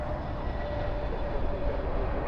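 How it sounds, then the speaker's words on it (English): A jet airplane at Dallas/Fort Worth airport gives off a steady broad engine roar, heard from a distance and holding even throughout with no talking. "I know that's a plane."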